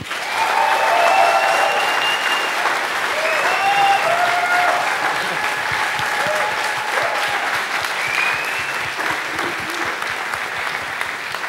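An audience at a science slam applauds Elisabeth, a dense, steady wash of clapping that holds for more than ten seconds with faint crowd murmur and whistles underneath.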